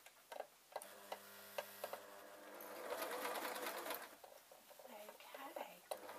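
Sewing machine stitching a barrel bag, with rapid mechanical ticking in short bursts and a longer steady run in the middle, close up and fairly quiet, with soft handling noises between runs.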